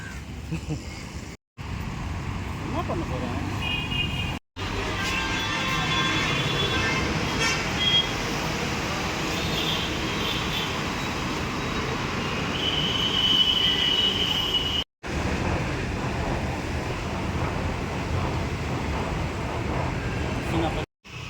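A metro train rumbles steadily along the rails at Alandur, Chennai, with a broad, continuous roar and occasional high wheel squeals, loud and close throughout.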